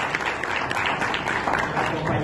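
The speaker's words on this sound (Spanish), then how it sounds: "para quien pido un fuerte aplauso" An audience at a human rights forum applauds in tribute to a recently deceased colleague, a short burst of dense clapping.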